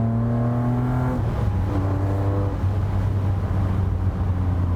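A restomod car engine, with small-car agility and the character of a BMW M3 CSL, revs loudly and steadily up close, holding strong harmonic tones that shift pitch a few times and sit alone with no talk.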